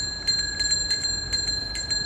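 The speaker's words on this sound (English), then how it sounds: "This is how a bicycle bell sounds here on Earth." A bicycle bell rings in several quick, bright metallic dings, grouped in pairs and evenly spaced, sounding close and clear over a faint background hiss.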